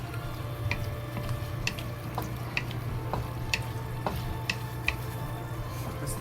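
Tiger tofu simmering in sauce in a pan and being stirred, a soft steady bubbling hiss broken by light, irregular clicks and taps of the utensil, fairly quiet and without talk.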